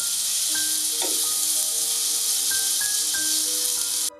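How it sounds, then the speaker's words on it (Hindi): Chicken pieces frying in a hot pan give a steady, loud sizzling hiss throughout, with a few faint clinks and tones. "तकरीबन 2 से 3 मिनट के लिए हम चिकन को पका लेंगे।"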